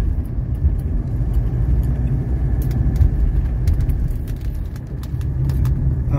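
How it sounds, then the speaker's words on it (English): A car takes a roundabout at speed, its interior filled with a steady low road rumble and engine drone, with light rattles and clicks scattered over the top and no talking. "I'm going to go through this roundabout with a little speed just to check the body roll."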